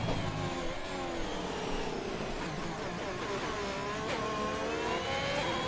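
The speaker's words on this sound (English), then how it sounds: "Engine does not sound good. Thank goodness it's just a video game." A racing car engine in a PC racing video game, at the Bahrain GP, sounds slightly off and rough: a steady, sustained mechanical whine and drone, loud and continuous throughout with no talking.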